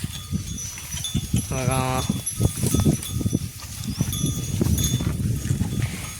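Cows being led out of a farm gate toward a field make shuffling hoof steps and rustling movement, with a clanking bell and a brief animal call, while a person talks over it throughout.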